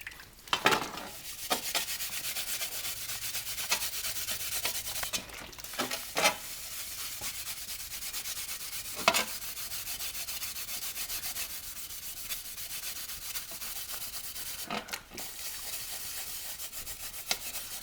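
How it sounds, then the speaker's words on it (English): Steady, close scrubbing of an aluminium car body panel with soap-filled scouring pads to remove welding flux, a continuous abrasive rubbing broken by a few sharper scrapes and knocks. "I also favour using like soap-filled scouring pads."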